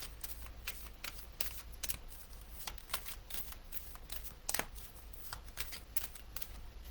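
Oracle cards being shuffled at close range, a steady run of soft riffling flicks and slaps repeating for several seconds with no talking.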